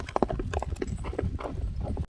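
A horse's hooves clip-clop on hard ground at a horse sale, a close, irregular run of hollow knocks over a low background rumble.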